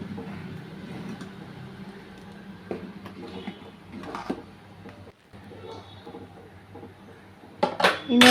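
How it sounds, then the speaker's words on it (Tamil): A ladle stirs simmering parai fish curry in a pot, giving light scrapes and clinks over a low bubbling bed, with a sharper clatter near the end and a voice talking intermittently. "இந்த சைடில் நல்லா கலக்கி விட்டுருலாம் நல்லா ஒரு கரண்டியை வச்சு கலக்கிட்டு"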